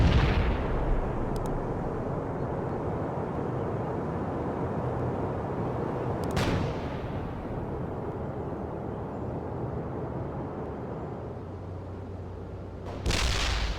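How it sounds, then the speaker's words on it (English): Mortar and artillery fire in the strategy game World in Conflict: a sustained low rumble of bombardment with a few sharp blasts, near and loud, with no voices. "Mortars will fire at the provided coordinates."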